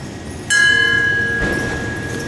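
A ceremonial memorial bell at the Pearl Harbor 81st anniversary is struck once, its clear metallic tone ringing out and slowly fading over the quiet ceremony.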